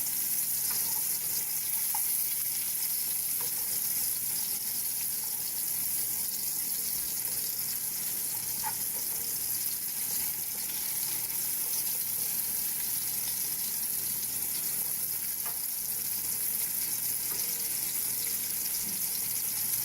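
Meatballs fry in a pan for spaghetti and meatballs, a steady bright hiss of sizzling oil running continuously with occasional faint clicks and no talk.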